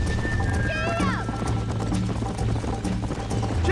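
Horse hooves in Red Dead Redemption, a steady rhythmic clip-clop close by with a sharp whinny near the start, and voices talking over the riding.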